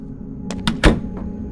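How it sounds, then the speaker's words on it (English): A door in the horror game Fears to Fathom: Woodbury Getaway gives a few short knocking, clattering sounds close by, with one heavier thud in the middle and a low room hum underneath. "I heard a door."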